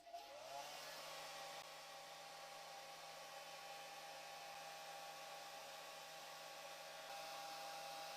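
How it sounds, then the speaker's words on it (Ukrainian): A hair dryer starts up and blows continuously at a steady, even whir, close by and alone, warming jelly molds from all sides. "І прогріваємо трішки феном зі всіх сторін."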